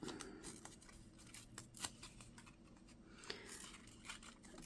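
Soft close scraping and crisp snipping strokes of paper being worked into pieces for a journal, quiet with a low background hum.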